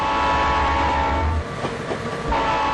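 Train horn sounding in the 3D Railroad Master railroad video game, a loud sustained blast over the steady rumble and clatter of rolling rail cars, with a brief dip in the middle before the horn resumes.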